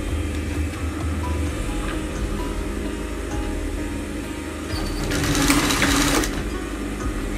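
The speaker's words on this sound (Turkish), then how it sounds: "Şu anda çantanın köşelerin sol kısmını dikiyorum." Sewing machine stitching the corners of a handmade faux-leather bag, running in a steady continuous whir that grows louder for a second near the end.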